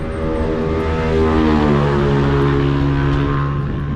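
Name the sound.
motorcycles passing by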